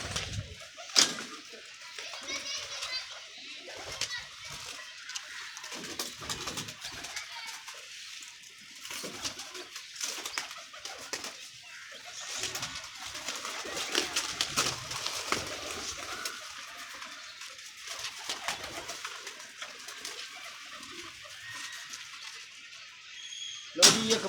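Pigeons coo softly among constant background noise, a flock of birds kept in a loft or enclosure, with no talk.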